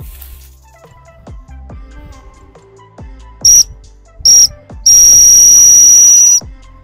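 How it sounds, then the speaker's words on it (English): Dog training whistle for a spaniel blown in the field: two short shrill blasts and then one long sustained piercing tone, loud and close, after quieter rustling footsteps. "so I did my constant hump whistle."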